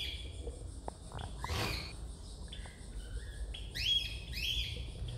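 Bengalese finches at a nest in a cage make soft, high chirps and short whistled tweets, scattered at first and then clustering into a brighter run of calls near the end, close by with no talking.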